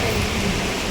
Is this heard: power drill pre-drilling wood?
no